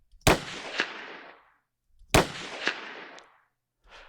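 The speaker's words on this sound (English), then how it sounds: "I have a gunshot here from a library that I'll just play for you here, completely unedited" An unedited gunshot from a sound effects library, two sharp loud reports about two seconds apart, each followed by a quick slap-back echo and a decaying tail, with the start of a third shot at the very end.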